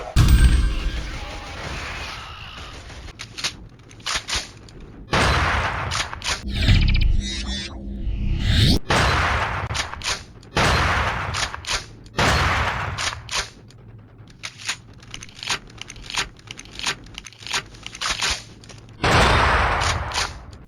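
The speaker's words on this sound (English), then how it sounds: "Killzone, an alt-fire attachment that does a decent job of bringing some tactical play into the proceedings." Shotgun with an alt-fire attachment in the Killzone video game, firing a series of loud, close blasts with gaps between them for manual reloads. Each shot ends in a booming tail, and mechanical handling clicks fill some of the pauses.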